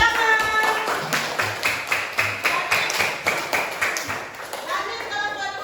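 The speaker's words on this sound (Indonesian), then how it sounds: "Tepuk tangan." A primary school class claps in a quick, regular rhythm of many hands together, with children's voices chattering throughout, heard from inside the classroom.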